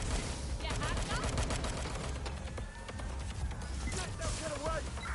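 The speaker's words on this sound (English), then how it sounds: "Gunfire!" Gunfire crackles in a sustained fusillade during a Watch Dogs Legion shootout, rapid shots layered over game noise with voices speaking throughout.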